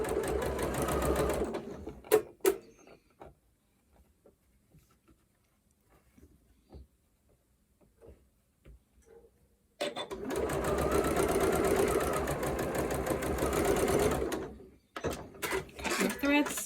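A sewing machine stitches curved fabric pieces for an orange peel quilt block in two loud, steady bursts of rapid whirring, separated by a quiet stretch of faint handling clicks and rustles.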